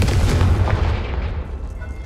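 A Confringo blasting spell cast in the video game Hogwarts Legacy bursts with a deep booming explosion, a loud rumbling blast that fades off over about two seconds.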